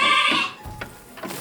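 A goat inside a shed in the DR Congo lets out one loud, nasal bleat up close, followed by quieter shuffling and faint livestock sounds.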